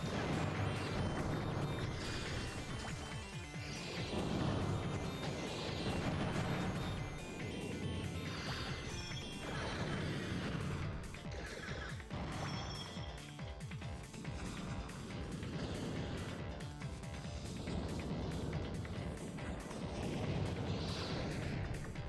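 Bombs exploding during a robot battle in the Custom Robo video game, a continuous barrage of booms, bursts and crashes layered over game music, loud and busy for over twenty seconds with no voices.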